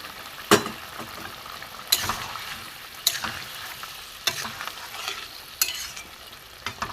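Chicken masala sizzles softly in a pan, broken by about six loud scraping strokes of a spatula stirring it at roughly one-second intervals, close up with no talking.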